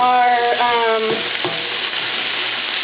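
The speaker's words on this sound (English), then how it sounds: "onions are translucent. So give them some stir." Red onions frying in a pan for a basil chicken coconut curry, a close, steady sizzle with a few stirring scrapes under a tonal hum that fades.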